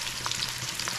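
Garlic, onion and pepper frying in a pot for a shrimp and eddo curry, giving a steady close sizzle with faint crackles and light stirring noises throughout.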